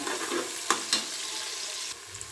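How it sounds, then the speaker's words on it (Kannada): Onions and cloves fry in oil for ghee rice, giving a steady close sizzle with a couple of sharp utensil clinks against the pan early on. "ಅದನ್ನು ಕೂಡ ಎಣ್ಣೆಗೆ ಸೇರಿಸ್ತಾ ಇದ್ದೀನಿ ನೋಡಿ ಈಗ ಎಣ್ಣೆಗೆ ಸೇರಿಸ್ಕೊಂಡಿದ್ದೀನಿ ಚೆನ್ನಾಗಿ ಫ್ರೈ ಮಾಡ್ಕೋಬೇಕು"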